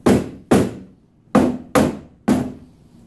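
Five sharp taps on wood, spaced unevenly, close and crisp, each ringing briefly before fading, as a door piece is tapped into place on a Rubbermaid housekeeping cart.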